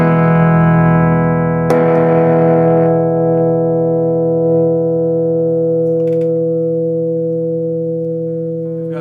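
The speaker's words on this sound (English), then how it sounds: "I think it's like a Marshall pedal simulator type of thing" An electric guitar chord rings out through a cheap Marshall-style distortion pedal with gritty overdrive. A second strum hits near two seconds, then the chord sustains and slowly fades.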